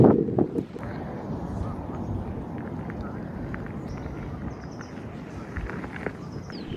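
Cold wind buffets the microphone on a coastal hiking trail near San Luis Obispo, California, a steady low rumble after a brief louder gust at the start, with faint scattered sounds over it.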